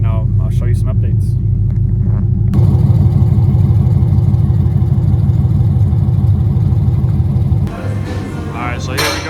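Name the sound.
6.4 Hemi Scat Pack with stage 1 cam idling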